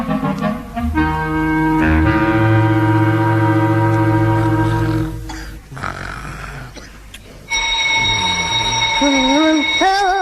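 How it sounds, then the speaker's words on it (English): An alarm clock rings as an old-time radio comedy sound effect, a loud, sustained buzzing tone lasting several seconds, then giving way to other shifting tones. "Oh, of course, the alarm clock."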